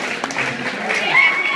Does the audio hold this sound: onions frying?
no